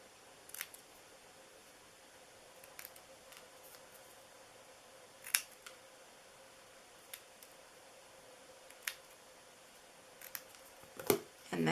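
Scissors snipping paper for a handmade birthday treat box give faint, close, isolated crisp clicks scattered over a quiet background, with a few louder cuts near the end.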